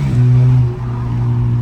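A VW Golf 1.6 MSI with an exhaust diffuser revs hard close by, a deep steady drone that dips briefly and swells back, loud and alone.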